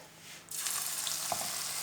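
Vegetable pakoras dropped into hot ghee, a sudden sizzle bursting on after a quiet start and holding steady, close and fairly soft, with no talk.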